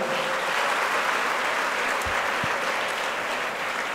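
Steady, dense applause from a large crowd at a birthday felicitation ceremony fills the whole stretch at an even, loud level.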